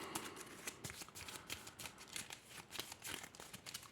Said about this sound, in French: Allez, je vais le remélanger.